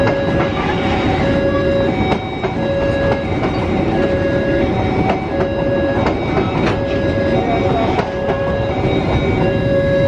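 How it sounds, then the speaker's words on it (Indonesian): A parcel train rolling past on rails, a continuous loud clatter of wheels with rhythmic clicks and a sustained metallic whine running throughout. "Ini kereta parsel sebelah kanan"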